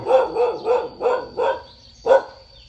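A dog barks repeatedly at a Thai temple, five evenly spaced loud, close barks followed by a short pause and one final bark, with no talking.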